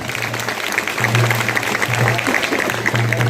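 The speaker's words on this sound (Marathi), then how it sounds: "एक टाळ्या वाजून त्यांचं स्वागत करायचं आपल्याला" An audience claps in welcome for Laxman Sawji at a Nashik ward birthday event, a dense burst of applause under a steady low hum from the sound system.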